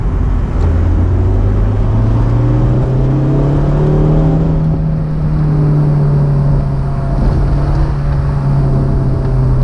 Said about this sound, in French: Dès qu'on dépasse 3000 tours minute, le moteur il se met à vivre et à chanter.